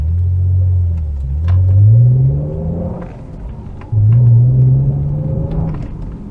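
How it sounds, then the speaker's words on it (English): MG ZT 190 V6 engine accelerating at full throttle on the road, a loud low droning growl that rises steadily in pitch through two gear pulls with a brief drop at the shift. "that's my foot flat to the floor, there is nothing, and then suddenly there's everything."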